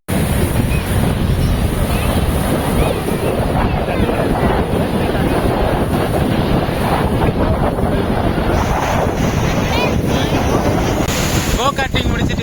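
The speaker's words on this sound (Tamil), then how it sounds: "காற்று பயங்கரமாக அடிச்சிட்டு இருக்கு." Strong wind buffeting the microphone in an open outdoor spot near a go-karting track, a loud continuous roar lasting the whole stretch with brief spoken voices mixed in.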